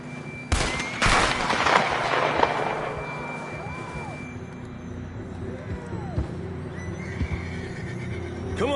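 Horses whinny loudly and repeatedly in a Red Dead Redemption II video game, with sharp bangs early on, clopping hooves, and voices talking faintly in the background.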